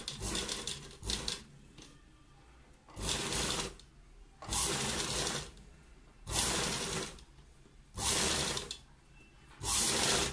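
A sewing machine stitches a folded sleeve seam in repeated bursts of two to three seconds, its close, steady whirring broken by short pauses between runs.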